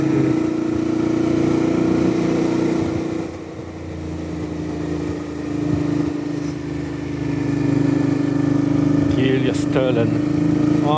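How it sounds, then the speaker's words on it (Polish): A Suzuki DL650 V-Strom motorcycle on a long road trip toward Nordkapp gives a steady, humming exhaust drone while riding, heard up close over constant wind rush, with small swells as the throttle changes. "dobrze słychać wydech"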